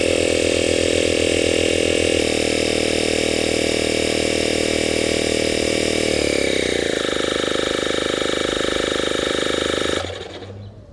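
Cycplus AL7 compact electric air pump inflating a 20 by 3 inch e-bike tire from 9.5 to 37 psi, a loud steady motor buzz with a pitch shift partway through, running alone until it cuts off near the end.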